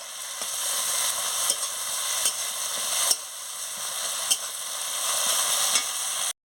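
Spices with turmeric, salt and chilli powder sizzle steadily in a pan for a fish curry with pointed gourd, while a spatula stirs and taps the pan every second or so, close and loud, without talking.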